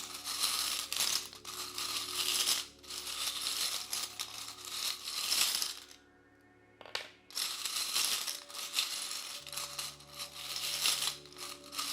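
Tarot cards are shuffled by hand for a pick-a-card reading, giving repeated crisp riffling and rustling bursts close by. A short quiet gap falls midway, and the shuffling then resumes.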